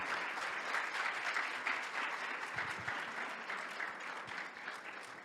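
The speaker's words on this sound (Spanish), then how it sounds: "Un fuerte aplauso, por favor." An audience at a forum on thermal and anticorrosive protection claps steadily and loudly as an award is handed over, a dense, even applause that holds for several seconds and eases slightly toward the end.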